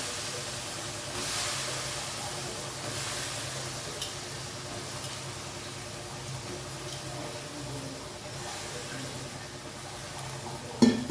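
Eggplant pieces frying in a hot pan give a steady, close sizzle and hiss that runs without a break, with faint stirring scrapes and no voices.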